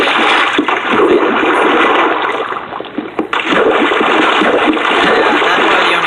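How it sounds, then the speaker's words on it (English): Water rushing and splashing as it fills a gap left by a broken block in a block-building game, a loud, continuous gushing that holds steady throughout with a brief dip midway. "Loud water filling noise."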